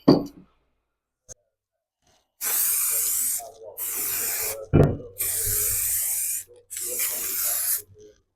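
A spray gun lays Volkswagen Iberian Red enamel top coat over prepared galvanised metal in four loud, steady bursts of hiss separated by short pauses, with a few clicks and knocks between them.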